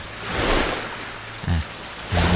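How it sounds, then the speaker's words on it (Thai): Steady rain hiss from a survival video game set at sea aboard a boat, continuous and even, broken by two short low thumps near the end. "ฝนตกอีก"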